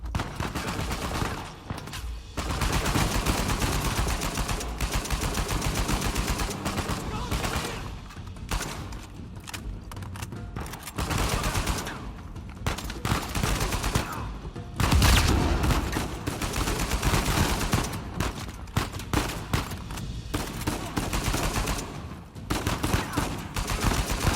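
Sustained gunfire in the video game Uncharted 4: A Thief's End, with rapid bursts of automatic shots and thumping impacts repeating in uneven volleys, loud and close throughout with brief lulls between exchanges.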